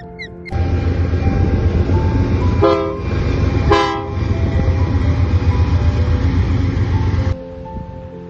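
A train rumbles steadily past, loud and close, with two short horn blasts in the middle before the rolling noise drops away.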